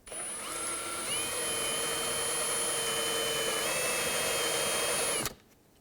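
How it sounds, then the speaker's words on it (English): A power drill whines steadily for about five seconds while boring out plastic rivets on the interior door of a 2006-2011 Chevrolet HHR, the tone close and even before cutting off abruptly. "you're supposed to drill out these plastic rivets here"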